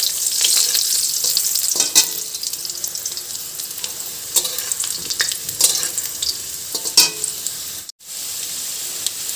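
Fried potatoes go into hot oil tempered with black cumin, giving a steady loud sizzle with scraping stirs throughout and a brief dropout near the end.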